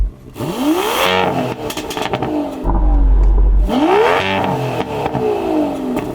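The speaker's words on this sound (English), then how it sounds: "Can you rev up your car, Sam? Let's have a listen to it." An Aston Martin twin-turbo V12 is revved repeatedly, loud close sweeping rises and falls of engine pitch with a short idle gap between the blips, no voices over it.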